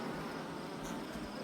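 Honeybees in a beehive give off a faint, steady buzzing hum with no voices, lasting the whole short stretch.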